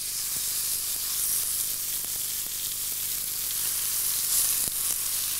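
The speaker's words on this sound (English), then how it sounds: "And they should make a nice big sizzle like that." Steaks searing in a hot pan give a steady, loud, continuous sizzle that runs unbroken throughout, with no voices over it.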